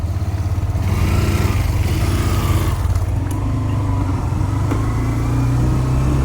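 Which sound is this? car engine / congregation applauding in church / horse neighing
car engine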